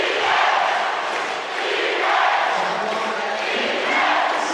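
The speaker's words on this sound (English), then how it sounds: "Hear the crowd, chant defense." A basketball crowd at an MPBL regular-season game between Valenzuela and Parañaque chants defense during a late timeout, a loud, sustained arena roar that swells in waves, with no clear speech.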